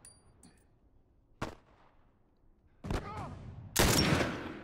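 Scattered gunshots in The Last of Us Remastered, a single sharp crack followed by two louder blasts with ringing tails, separated by quiet stretches.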